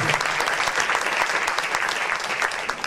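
Steady audience applause fills a conference hall, dense and continuous clapping from a sizable crowd throughout, with no speech over it.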